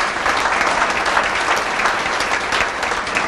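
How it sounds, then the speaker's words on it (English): An audience claps together at a county State of the County address held by a chamber of commerce, giving steady, dense applause that holds at an even level throughout. "I think that deserves a round of applause"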